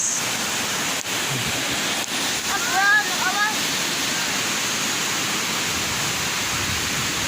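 Tagbibinta Falls pours in a steady, broad roar that fills the whole stretch evenly, with a few faint chirps and small knocks over it.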